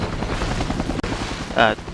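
Helicopters in the James Bond video game The World is Not Enough, a steady rotor drone with low beating pulses throughout, broken by a brief dropout and a louder burst near the end, with a voice talking over it.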